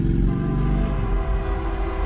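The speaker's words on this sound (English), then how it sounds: "Oh, you can hear the train that's going by." A train goes by outside a parked car, a loud continuous low rumble with droning engine tones that holds steady and close for the whole brief stretch, with no one talking.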